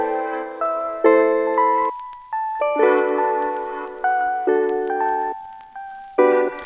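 A lo-fi beat built in FL Studio with a soft SQ8 ROM synth melody, sustained chordal notes fading in gentle steps, clean and close with no drums evident and no talking.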